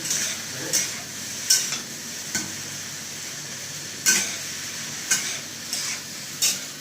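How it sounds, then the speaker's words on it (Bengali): Pasta spices fry lightly in a little oil, a low steady sizzle broken by sharp periodic scrapes and taps of a spoon stirring in the pan, heard close with no talking. "এগুলো হালকা করে ফ্রাই করে নেব"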